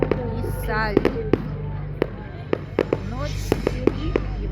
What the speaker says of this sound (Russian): Вот и салют.